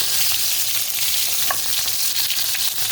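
Chicken browning in hot oil for a white olive tagine, a loud, dense, steady sizzle and crackle close up, with faint stirring and no talk.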